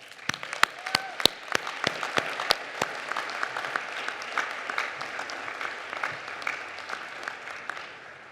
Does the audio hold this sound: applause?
yes